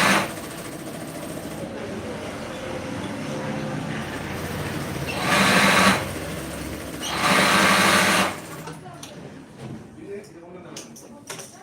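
A sewing machine stitching a blouse in a tailoring shop, two loud whirring bursts of a few seconds each against a busy room background, followed by light clicks and handling noises.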